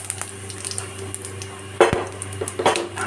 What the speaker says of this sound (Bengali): তার মধ্যে আমি দিয়ে দিচ্ছি জিরে ফোড়ন